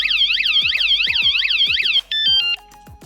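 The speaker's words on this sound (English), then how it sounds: "Now if I touch my truck as an example, it gives off a beep just as a warning" A WSDCAM 113 dB wireless security alarm mounted on a truck sounds a loud, rapidly warbling electronic warning tone for about two seconds, then gives a few short separate beeps, close by with no talk.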